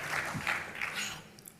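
Applause rises from an awards ceremony audience as two presenters walk to the podium; a steady, dense wash of clapping carries throughout the short stretch and fades slightly near the end.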